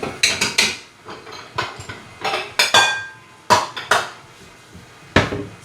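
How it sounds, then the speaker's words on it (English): Sugar being measured into a bowl for strawberry jam, heard as a run of close, sharp clinks and scrapes of a utensil against the bowl in irregular bursts, with no talking. "I'm just going to measure my sugar into a bowl"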